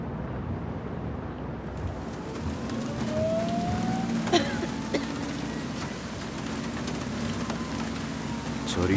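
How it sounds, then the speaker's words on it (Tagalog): Heavy rain falling steadily outdoors, a continuous dense hiss with scattered louder drops and a faint chirp partway through. "Malakas ang ulan at madulas ang kalsada."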